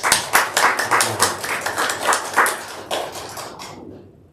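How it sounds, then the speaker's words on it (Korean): A church congregation at a Sunday worship service claps together for a pastor: quick, rhythmic, fairly close hand claps that carry on for several seconds, then taper off into silence. "우리 말씀 열심히 준비하도록 우리 경례 박수 하겠습니다"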